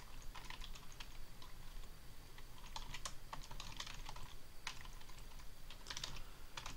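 Rapid, uneven keystrokes clatter on a computer keyboard, steady bursts of clicks, close but soft against a low background hum, with no speech.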